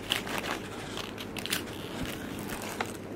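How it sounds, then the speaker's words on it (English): Someone bites into crunchy battered fish and chips, giving a few crisp, close crackles and crunches at irregular intervals with no speech. "Ooh, batter is really crunchy."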